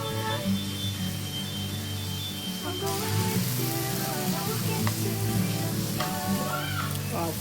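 Washed dried shrimp shells drop into hot oil for an Andhra-style curry, giving a steady loud sizzle and crackle that swells sharply after the shells go in, with light clinks of a utensil.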